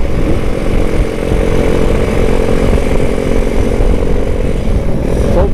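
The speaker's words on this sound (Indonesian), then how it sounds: "Kok berebet-berebet motornya bolo" Bored-up motorcycle engine at night, sputtering with a continuous rough, buzzing putter that stays close and loud, with a faint sweep near the end.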